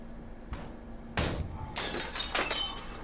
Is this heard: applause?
no